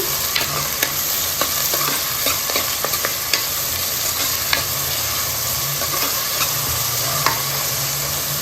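Green chillies, onion pieces and curry leaves frying in hot oil for a spicy goat-head (thalakaya) mutton curry, giving a steady close sizzle with repeated stirring scrapes and clicks, no voices.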